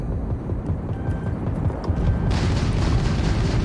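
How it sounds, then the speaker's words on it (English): Rocket hit on an enemy ship in the space game Starfield, with a deep, rumbling blast over a continuous dense roar that swells louder partway through. "Take that, you! Rocket into your face!"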